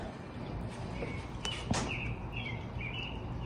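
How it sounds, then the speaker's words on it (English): A bird calls outdoors in several short, fairly faint chirps over a steady background hiss, with no talk. "I hear a bird being loud."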